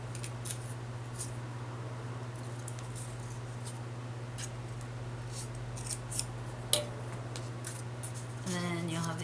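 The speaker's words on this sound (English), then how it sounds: "we'll take our scissors, and you just want to cut kind of the paper part" Scissors snip paper for a handmade wedding box craft project, a few crisp isolated cuts scattered over quiet room tone, followed by a brief rustle near the end.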